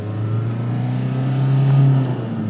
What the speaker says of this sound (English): Run the engine up, likes RPM.